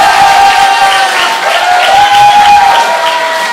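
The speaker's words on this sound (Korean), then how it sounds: "백은정성학께 다시 한번 큰 박수 부탁드립니다" An audience in a church hall applauds and cheers continuously, a loud, steady wash of clapping with whoops and voices mixed in throughout.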